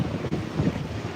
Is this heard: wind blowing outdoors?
yes